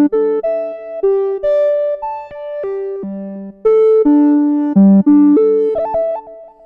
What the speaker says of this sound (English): I want to use the analog flute lead.